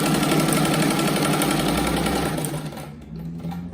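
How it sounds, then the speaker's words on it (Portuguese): A sewing machine runs steadily at speed, stitching patchwork fabric strips for a rag rug with a dense, continuous mechanical whir, then slowing and easing off near the end; no talking. "Aqui eu não vou dar nem retrocesso, porque essa costura é só para firmar o tecido no lugar"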